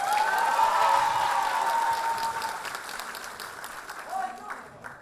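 Audience applause in a hall for a contestant at a school freshmen's ball, a dense burst of clapping under a sustained voice that slowly thins out over a few seconds.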